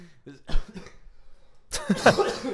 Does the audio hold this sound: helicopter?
no